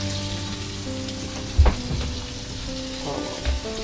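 Steady sizzling of tuna frying in a pan, with a couple of clinks and stirring noises.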